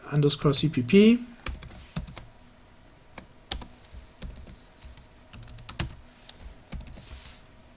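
Someone types code on a computer keyboard in quick bursts of crisp key clicks with short pauses between them, close and clear. A brief louder rustle comes first.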